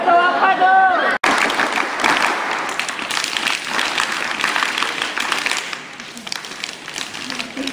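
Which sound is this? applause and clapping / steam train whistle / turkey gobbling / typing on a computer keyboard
applause and clapping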